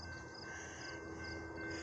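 An eastbound train passes the Grand Avenue railroad crossing in Hammond, Indiana: a faint, steady rumble of rail cars with a thin sustained tone above it, distant and continuous.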